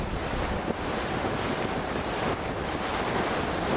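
Strong wind and breaking waves roar steadily around a cruising boat under a small craft advisory, with winds near 30 knots; constant dense broadband noise with heavy wind buffeting on the microphone and no voices.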